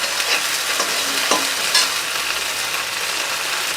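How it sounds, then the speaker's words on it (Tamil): Ginger garlic paste and onions sauté in hot ghee for a vegetable kurma, giving a steady close sizzle with a few soft scrapes of a spoon stirring through the pan. "வாசனை போகிற வரைக்கும் 2 நிமிஷம் வதக்கிக்கலாம்"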